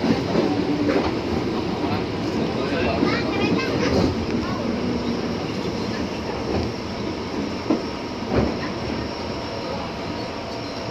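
An LRT train runs along elevated rails near Jatibening Halim station in Jakarta, a steady rumbling roll with faint clicks and wheel screech, while people talk over it.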